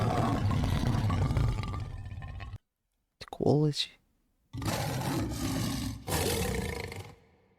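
A cartoon-style roar stock sound effect rises and falls in one short, loud burst. Stretches of noisy speech from a person come before and after it, separated by brief silences.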